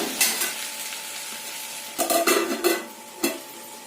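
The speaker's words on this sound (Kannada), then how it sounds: "ಇದಕ್ಕೆ ಪ್ಲೇಟ್ ಹಾಕ್ಬಿಟ್ಟು ಫ್ರೈ ಮಾಡಿದ್ರೆ ಬೇಗನೆ ಆಗುತ್ತೆ" Mushroom and paneer curry fries in a pan under a plate lid, a soft continuous sizzle broken by a few sharp clinks and scrapes of a utensil against metal, close and without speech.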